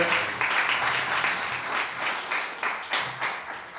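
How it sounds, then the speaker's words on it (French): Audience applause at an outdoor ecology festival in France, a steady moderate wash of many hands clapping that swells in uneven pulses and gradually eases off, with no talking over it. "On peut l'applaudir"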